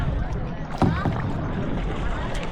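A kayak or small boat glides across the water, giving a steady wash of splashing and churning with a brief louder surge near the start. Faint voices sit in the background.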